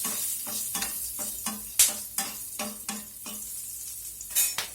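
Split green chilies tossed into hot white cooking oil in a wok, giving a steady close sizzle broken by repeated scraping stirs and a few sharp metallic clinks of utensil against the pan.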